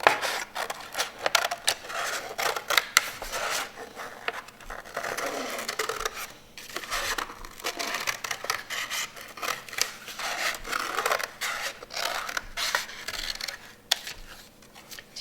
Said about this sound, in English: We're then going to cut that out and try to cut it in a circle.